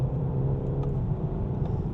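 The engine of a 2017 BMW 430i M-Sport drones loudly and steadily from inside the cabin as the driver gives it gas, a low continuous rumble without clear rev changes.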